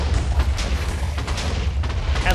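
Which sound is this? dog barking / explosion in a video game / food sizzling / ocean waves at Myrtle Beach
explosion in a video game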